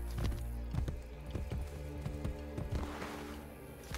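Horse hooves clip-clop at a steady walking rhythm on stone in Assassin's Creed Brotherhood, close and clear, with no talk over them.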